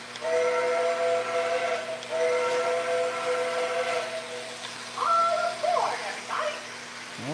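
A Mickey Mouse toy train sets off with a sustained, steady steam-whistle tone running through most of the stretch, joined by hiss, while voices chatter in the background.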